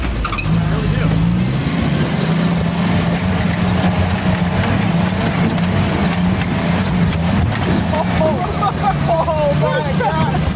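A 1948 Willys CJ-2A Jeep engine labors steadily up a sand slope in low range, a constant loud mid-pitched drone with shifting tone, while people talk over it.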